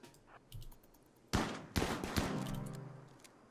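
Gunfire in the video game RimWorld, a few sharp shots and a close, crackling burst of several rounds that trails off, faint overall and with no one speaking.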